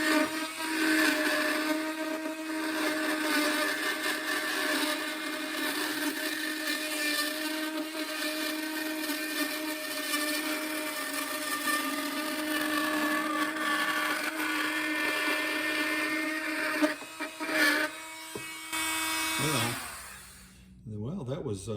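A Black & Decker power tool whines steadily at high speed as it drills and profiles, holding a constant buzzing tone for about twenty seconds before spinning down at the end, close up with no voices.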